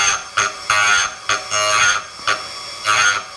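A TDR 82B tool grinder takes a heavy cut while sharpening the corner of a drill bit, giving a loud, harsh grinding rasp in repeated bursts as the bit is swept back and forth.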